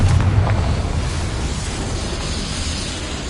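A fire spell cast in Hogwarts Legacy bursts out as a loud, close whoosh and roar of flame that swells at once and then settles into a sustained rumbling rush, with no talking.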